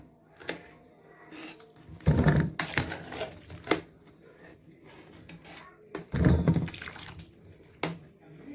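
Boiled lemons are lifted out and drained, with two bursts of splashing, pouring water separated by quieter stretches and occasional clicks and knocks of utensils, close by.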